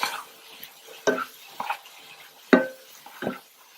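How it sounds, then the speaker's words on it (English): A utensil stirs ground beef seasoned with garlic salt in a pan, giving several separate scraping clacks against the metal with short quiet gaps between them and a faint sizzle underneath. "we're going to stir"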